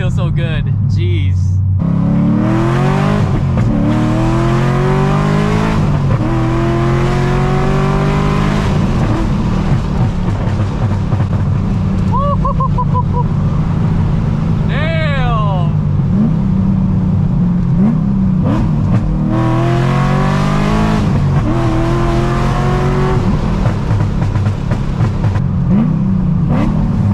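A straight-piped Corvette Z06 rumbles and revs loudly while driving, its exhaust note rising and falling through repeated pulls and gear changes, close and dominant throughout, with someone talking over it at times.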